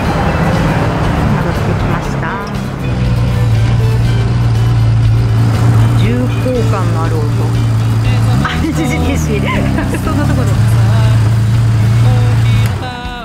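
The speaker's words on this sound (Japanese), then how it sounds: "マフラーもいい音するね" A deep, throaty exhaust from an air-cooled six-cylinder 1000cc Honda CBX motorcycle rumbles steadily at idle nearby, loud and continuous, with people talking over it.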